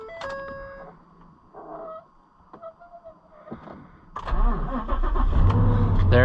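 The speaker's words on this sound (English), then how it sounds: "Running truck." A Ford Super Duty pickup truck engine, previously not running due to a broken wire, cranks with a few chimes and clicks, then catches and roars into a loud, rumbling idle close by.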